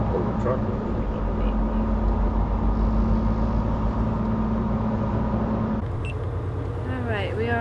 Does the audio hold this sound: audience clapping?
no